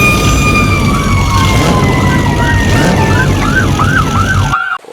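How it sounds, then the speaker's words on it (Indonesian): Toy fire truck siren wailing loud and close, a steady electronic tone that shifts into a rapid warbling yelp before cutting off abruptly, with a constant buzzy drone beneath. "Ini ada mobil pemadam kebakaran."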